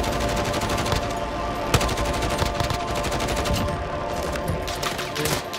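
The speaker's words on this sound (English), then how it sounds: "getting shot from the left" Rapid automatic gunfire from a Warzone match, a dense, continuous volley of shots with a sharp louder crack partway through, loud and close, with no talking over it.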